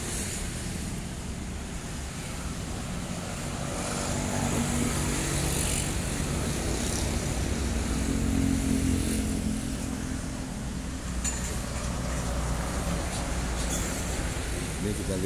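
A PM Toh intercity bus with an Adi Putro body and a Mercedes engine runs in a steady, broad rumble that swells slightly midway, with no clear speech over it.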